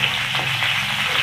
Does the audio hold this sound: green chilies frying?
yes